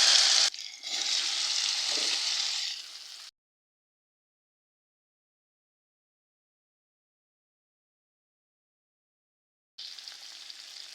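Amla (Indian gooseberries) hit hot mustard oil seasoned with panch phoron and sizzle sharply for about three seconds, then the sound cuts to silence before the frying hiss returns near the end.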